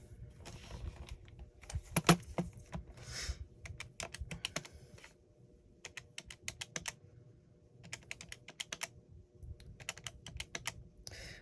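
Keys on an old, worn calculator are tapped in quick clustered bursts of sharp clicks with short pauses between runs, close and fairly quiet against a soft background.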